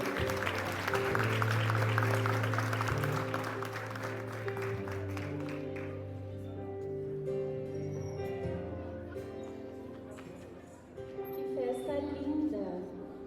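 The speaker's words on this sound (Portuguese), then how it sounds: "Uma salva de palmas, né?" A church congregation claps steadily, loud at first and then fading, with music and voices continuing underneath.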